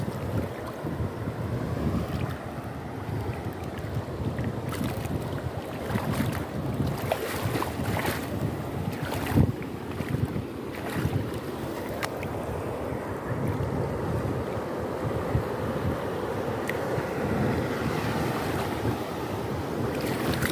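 Sea waves wash onto a Moroccan beach under steady wind, a continuous dense roar of surf with gusts buffeting the microphone throughout, no voices.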